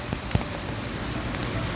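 Rain falls on a mountain forest trail at Phu Soi Dao: a soft, even patter with a few faint drops and rustles standing out, all quite low in level.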